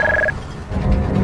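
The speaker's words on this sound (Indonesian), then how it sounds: "tiba-tiba mendengar dering telepon yang mengganggu waktunya" A telephone rings in one short, bright burst at the very start, then cuts off and leaves only a low background rumble.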